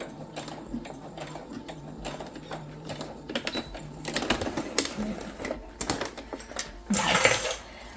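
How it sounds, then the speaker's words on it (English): Domestic sewing machine stitching a synthetic leather pouch with zipper tape, a close, rapid mechanical chatter in short bursts with pauses between runs, ending in a louder spurt of back stitching. "Okay, sewing up to the end."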